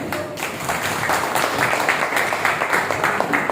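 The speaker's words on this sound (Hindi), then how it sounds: "इसके लिए ताली बजाओ।" A workshop audience at LJ College in Vastrapur, Ahmedabad claps for a participant, the uneven handclaps of a modest group rising and falling for a few seconds with faint voices mixed in.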